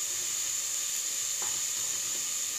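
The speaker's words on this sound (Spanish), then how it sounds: "Y podemos agregar la cebolla." Chopped onion frying in hot oil in a pan for a potato stew: a steady, fairly faint sizzle that runs the whole time, with a soft scrape or stir near the middle.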